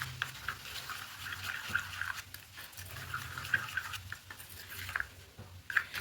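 A spoon scrapes and stirs potato curry with peas and jaggery in a pan, giving soft, irregular clinks and wet patter at close range. The sound stays fairly quiet throughout.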